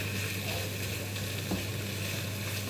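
Tomato paste for a Turkish alinazik kebab melting in a pan over low heat, giving a gentle, even sizzle with a steady background hum and one faint stirring scrape.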